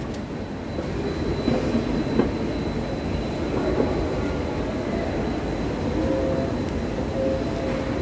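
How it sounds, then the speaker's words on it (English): An airport rail train at Suvarnabhumi International Airport, Bangkok, rumbles steadily nearby with a broad low roar and faint wheel squeals, continuous for the whole stretch, with no talking. "So this is the train at bottom."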